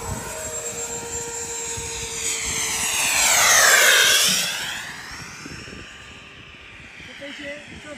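An electric radio-controlled Dornier Do 335 scale model airplane on a 6S battery makes a propeller drone that swells as it passes close overhead, then fades as it flies away, with voices faintly in the background.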